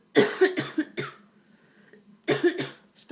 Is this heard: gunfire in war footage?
no